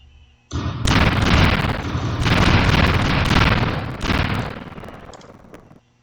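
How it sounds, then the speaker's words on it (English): A game explosion sound effect opens with a sudden heavy boom, then gives a dense, rumbling roar in a couple of surging waves that fade over about five seconds, loud and alone. "today we included the sound of the explosion."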